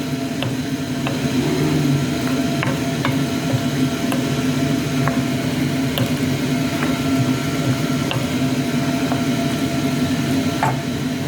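Macaroni simmering in a pot of water, a steady bubbling hiss with scattered small pops and ticks, close and continuous throughout.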